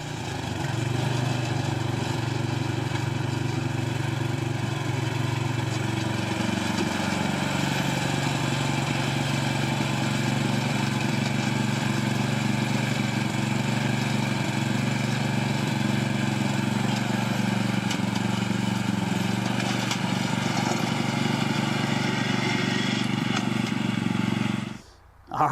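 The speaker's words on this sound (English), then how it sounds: "then we had to get the yard mowed and all the weed eating done and all that sort of stuff." A lawn mower runs continuously while mowing an overgrown garden yard, a loud close steady engine drone that shifts pitch slightly early on and cuts off abruptly at the very end.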